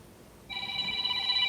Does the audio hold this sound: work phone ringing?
yes